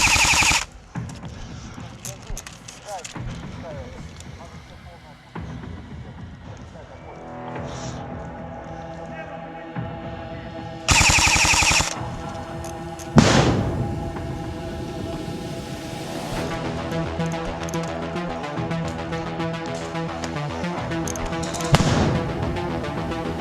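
Airsoft guns fire during a forest battle and an attack on a base, in rapid bursts and scattered single pops, some sharp and near, others farther off. Occasional voices call out among the shots.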